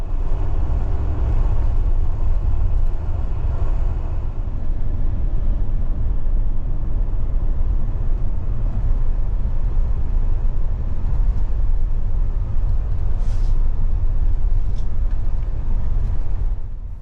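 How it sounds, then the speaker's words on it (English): Steady, loud low rumble of a long-distance bus cruising along a Japanese toll road, heard from inside the cabin as an even, continuous drone with no voices. "this is the best bus I've ever been on"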